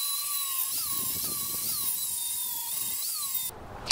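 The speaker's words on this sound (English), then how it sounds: "I'm cutting out a cap to go on the bottom of this so that I can put a bolt and a screw in there" A small high-pitched power tool whines steadily while cutting a metal cap to fit the bottom of a table base, its tone dipping briefly under load every half second or so, then cutting off near the end.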